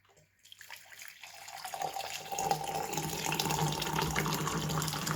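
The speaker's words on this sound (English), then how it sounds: "Pouring the water in from about a foot above the cup." Freshly boiled kettle water is poured from about a foot above into a tea cup, a steady splashing stream that builds quickly and then runs continuously, close and fairly loud.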